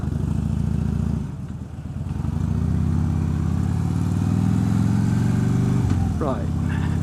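A Harley-style hog motorcycle with slash-cut exhausts, an FP3 tuner and a Vance and Hines naked intake rumbles close and loud with a deep, steady throb. The tone swells as it pulls away, and engine noise covers the whole stretch.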